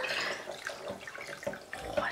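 Water runs into a blender cup over soaked almonds for homemade almond milk, a steady close pouring splash for about two seconds with no talking.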